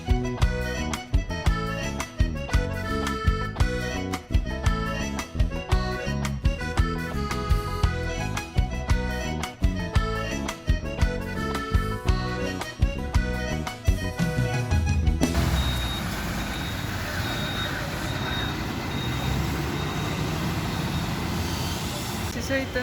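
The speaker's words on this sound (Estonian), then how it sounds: "Juhtus, et sain kuidagi bussi peale." Loud music plays for the first two-thirds, then gives way to the steady rumble and rushing wind of a bus ride in Sri Lanka with the window open, a continuous broad engine-and-road drone.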